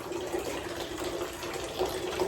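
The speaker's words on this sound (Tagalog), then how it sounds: "nag-iipon ako ng tubig sa bathtub" Water runs from a weak tap into a bathtub, a steady soft gushing hiss that continues throughout at low volume, with no talk.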